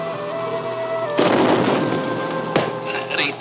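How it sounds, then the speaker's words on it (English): Distant blasting explosions in a 1944 mountain film scene: two deep booming detonations roll out over a steady low rumble, the first long and heavy, the second a sharper thump, with no talk. "Eternal blasting?"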